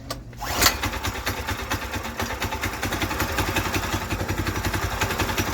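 A Predator 212 small engine fitted in a Volkswagen Baja Bug starts with a brief cranking burst, then settles into a steady, close, slightly uneven putter that runs to the end with no voices.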